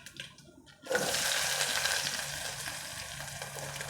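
Sliced onions, dried red chillies and tempering seeds hit a spoonful of hot oil in a small pan for rasam, bursting into a loud, steady sizzle after a brief quiet moment and crackling on without talk.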